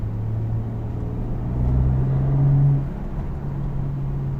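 A tuned BMW 335i F30 with a stage 2 setup builds revs. The rumble is low and muffled, heard from inside the cabin, and swells briefly before easing back.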